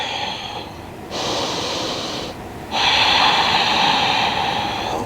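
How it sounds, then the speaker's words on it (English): Two long, deep breaths during a yoga session, a broad airy rush of air following a quieter stretch, each sustained for over a second with a short pause between, close and fairly loud with no talking. "just take a few breaths"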